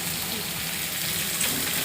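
Chicken pieces sautéing in a pan with fried potatoes about to go in, giving a steady, even sizzle and crackle with no pauses, fairly close and moderately loud.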